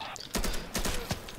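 Gunfire in the video game Insurgency, a few sharp shots in quick clusters cutting through a busy background, close and loud.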